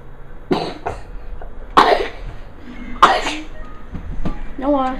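Several sharp, loud coughs close to the microphone, spaced about a second apart, with some voice sounds between them.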